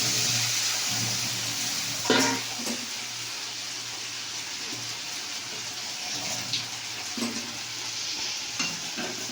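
Soybean chunks sizzle steadily in a hot pan, a dense continuous hiss with a low hum beneath and a few brief clatters of a spoon stirring them, close and alone with no talk.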